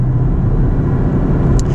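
A Porsche 718 Cayman S accelerates, heard from inside the cabin as a loud, steady low engine rumble with road noise throughout.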